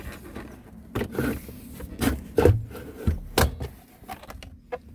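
A plastic center console trim panel on a Smart 453 being worked free and slid back over the handbrake, giving soft scraping, rubbing and clicking noises close by, with no talk.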